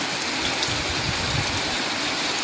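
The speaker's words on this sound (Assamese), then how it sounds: "এনেকৈ বৰষুণ দিয়ে আছে" Rain falls steadily in a constant, even hiss, moderately loud with no voices.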